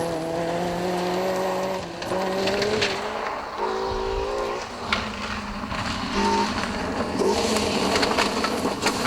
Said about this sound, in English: Maybe it's just the exhaust that's fallen off the Mike O'Brien car.